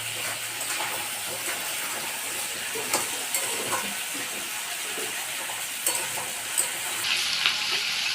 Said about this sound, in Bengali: সবজিগুলোকে হালকা করে ভেজে নিয়েছি